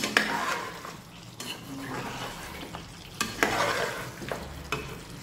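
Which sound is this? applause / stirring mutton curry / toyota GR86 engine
stirring mutton curry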